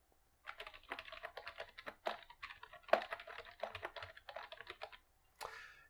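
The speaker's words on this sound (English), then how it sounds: "I've typed a simple message here" Quick bursts of keystrokes as a short message is typed on a computer keyboard, close and clear, irregular clusters of taps broken by brief pauses, including a sharper key hit, with no voices.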